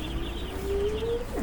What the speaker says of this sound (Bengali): অনেকগুলা হাঁস, 200 হাঁস আছে এখানে।